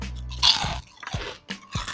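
Crunchy Boncabe Makaroni Krispi Big Puff roasted-corn puffed macaroni snack being chewed up close, with several loud crisp bites and crunches in an uneven rhythm, no talking.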